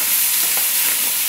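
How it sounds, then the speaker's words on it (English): Caramelized onions heating in a pan give off a dense, even, close sizzle that stays at a steady loud level with no pauses. "I'm going to heat up my caramelized onions"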